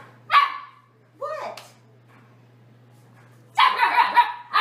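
A dog barks and whimpers in short bursts while being given a bath, with a few separate yelps followed by a longer cluster of barks, loud and close.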